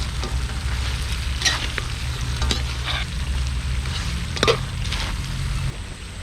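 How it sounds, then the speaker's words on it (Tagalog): Chicken wings are stirred slowly through thick, sticky buffalo sauce in a pan outdoors, a loud continuous sizzle with occasional scraping clicks of the spoon and a low background rumble. "Haluin lang natin dahan-dahan hanggang sa kumapit yung sauce."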